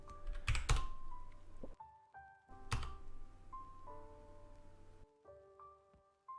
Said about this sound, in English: You can do this by pressing the upper key on the keyboard and hitting enter.